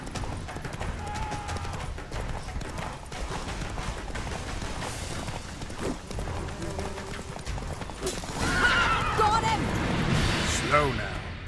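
Hooves of Roach, the horse in The Witcher 3: Wild Hunt, clip-clop at a gallop, a steady drumming rhythm under game speech, music and effects, with a louder burst near the end.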